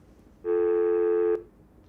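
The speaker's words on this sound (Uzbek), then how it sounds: "Qo'ng'iroqni amalga oshiryapman." A mobile phone placing a call gives a single steady electronic tone lasting about a second, clear and close, with quiet before and after.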